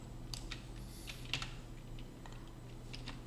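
Computer keyboard keys pressed while working in Blender 3D modelling software, a quiet scattering of soft clicks and taps, including one sharper keystroke, over low steady room hum.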